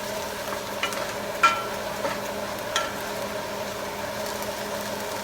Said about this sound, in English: You can see the onions are cooking.